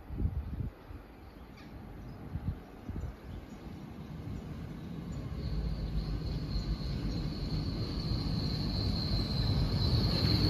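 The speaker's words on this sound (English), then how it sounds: "Arriving now is the severely delayed 1738 Great Western Railway service from London Paddington to Plymouth." A Great Western Railway Class 802 passenger train, unit 802014, on a delayed London Paddington to Plymouth service, arrives at Pewsey station with a low rumble that swells steadily, a thin high brake squeal running over it toward the end.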